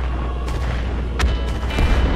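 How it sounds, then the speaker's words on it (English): Explosions in the golf video game Golf With Friends, a few dull game booms and thuds over a constant low rumble, with no talking. "the explosions will just knock you around"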